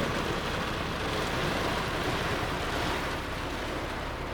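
Rain pours outside as a steady, dense hiss that fills the whole stretch evenly, fairly faint and with no voices over it.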